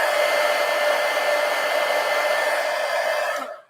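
A hair dryer blows steadily on freshly painted little ears, a loud continuous whirring hum with a bright whine that holds evenly for several seconds, then cuts off abruptly at the end.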